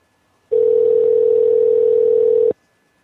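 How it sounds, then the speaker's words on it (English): A Skype outgoing call gives one steady, loud electronic ringing tone that holds for about two seconds and then stops sharply, with silence before and after. "We're calling him now, I guess. Because that's the way Skype works."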